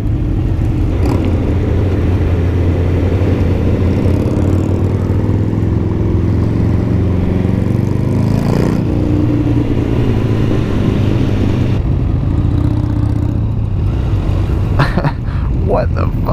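Motorcycle engine revving hard inside a tunnel at night, a loud continuous low rumble with rising and falling revs echoing off the walls, with people talking over it.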